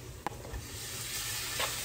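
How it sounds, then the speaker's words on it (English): Beef steak pieces hit hot olive oil in a pan and sizzle steadily, a broad crackling hiss close by with a few sharper pops, no voices. "Ooh. The sizzle."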